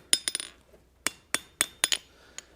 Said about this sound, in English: I'm hammering, I'm aiming for the closeness of that corner there to square this off.